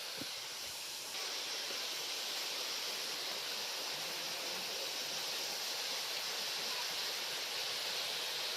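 A waterfall at Morzot near Poladpur roars as a steady, dense rush of falling water, loud and close, unbroken throughout with no voices over it.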